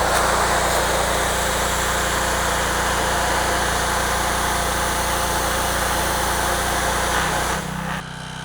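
The gas engine of a 3100 PSI pressure washer runs at a steady, buzzing drone, close and loud, then drops away and cuts out just before the end.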